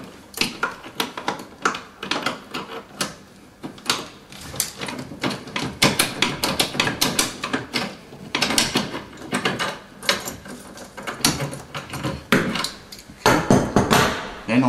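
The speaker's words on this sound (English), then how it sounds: "Put the back nut on, spin it up, tighten it up with your tap" A basin spanner tightening the back nut of a tap under a very small basin, giving a dense run of sharp metallic clicks, taps and scrapes, close and fairly loud, with no talk.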